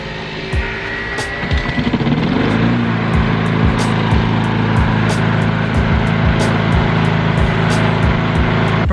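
A Honda 3-in-1 lawn mower fires on the first pull and settles into a steady, loud running drone close by, with sharp rhythmic clicks ticking through the engine noise.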